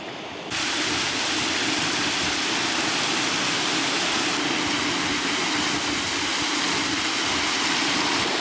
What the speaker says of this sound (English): And we also have this beautiful waterfall over here. It's not the biggest, but the sound and stuff, it's just so relaxing, so calming.